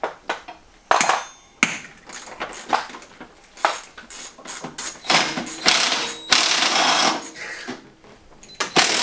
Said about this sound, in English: I'll take the 3 bolts off the top.